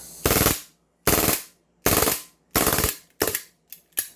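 An airsoft gun with a leaking magazine fires seven sharp, hissing bursts in uneven succession, the last few shorter and weaker as the gas fades, loud and close with no talking.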